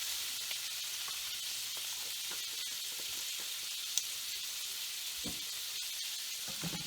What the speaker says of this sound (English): we want to just saute the garlic. We don't want it to burn, but we do want to saute it